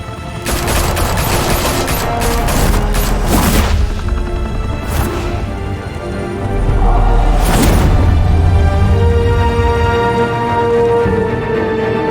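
Loud bursts of rapid gunfire and heavy impacts ring out in Batman: The Telltale Series, with several clustered volleys over a rumbling low background, close and intense.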